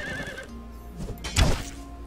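A horse in the video game Conan Exiles gives a short wavering whinny, followed by a low thudding snort or hoof knock, heard close against soft game ambience.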